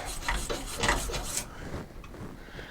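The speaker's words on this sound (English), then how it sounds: "You can get some of that a light sandpaper too and do this." Light sandpaper rubs inside a Moen Posi-Temp faucet cartridge housing, giving close, steady scratchy rasping strokes for about a second and a half before it fades to quieter scraping.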